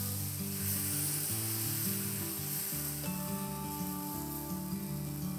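Gram flour batter with spinach and fenugreek hisses and sizzles steadily on a hot, oiled griddle, a close, dense crackle that runs throughout under a faint humming tone, with no talking.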